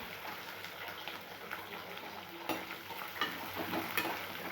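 Curry leaves and onions fry in hot oil with cumin seeds for jeera rice, giving a soft, continuous sizzle with occasional stirring scrapes and small crackles throughout.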